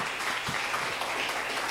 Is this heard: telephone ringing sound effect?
no